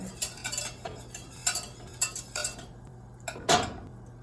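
Metal utensil clinking and scraping against a pan in quick, irregular strokes, with a louder scrape near the end over a faint hum; stirring butter while it melts.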